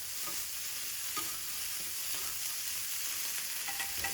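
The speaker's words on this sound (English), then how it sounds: "Let the ham sizzle with the tomatoes right there." Ham and tomatoes sizzle steadily in a hot pan, a dense continuous frying hiss with occasional stirring scrapes and small pops throughout, close and alone.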